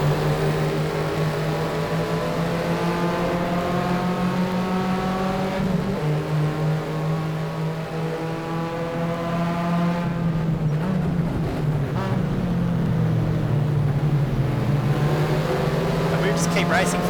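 A Torana XU-1 touring car races at Wanneroo in a 1972 racing game, its engine droning loudly and continuously, pitch dipping and rising through gear changes.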